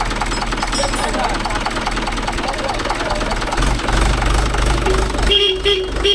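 Mahindra 575 DI diesel tractor engine running after repair work, a steady rhythmic knocking chug close by that swells slightly louder toward the end while people talk over it.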